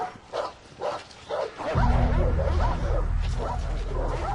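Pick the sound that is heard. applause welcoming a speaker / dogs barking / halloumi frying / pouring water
dogs barking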